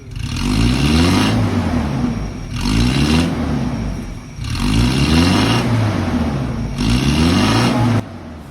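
Toyota Revo with a 1RZ engine that smokes and misfires, revved four times in a row, each loud rise in pitch holding briefly before dropping back to idle, with no talk.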